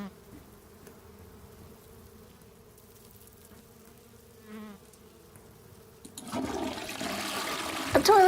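A toilet in the video game Scarlet Hollow flushes with a sudden rushing gush of water that begins abruptly partway through, loud and close. A quiet insect-like buzz and faint ambience come before it.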